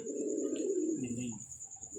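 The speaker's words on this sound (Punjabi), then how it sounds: "ਹੁਣ ਮੇਰਾ 2 ਸਾਲ ਬਾਅਦ ਕਬੂਤਰ ਵਾਪਸ ਆਇਆ ਟੈਡੀ ਹੈ।" A pigeon coos in a low, throaty rolling call that slides downward, close by, with a faint steady high whine in the background.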